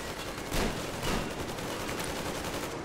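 Continuous automatic weapon fire from the shooter game Metro Exodus rattles throughout, a dense steady stream of shots with a couple of louder bursts early on.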